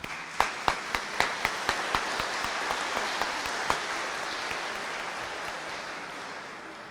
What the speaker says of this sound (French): Je souhaite qu'on applaudisse Gaston.